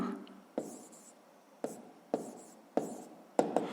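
Quiet, close scratching of a pen working out a fraction problem on paper, with short writing strokes separated by pauses and a few sharper taps near the end, nobody speaking.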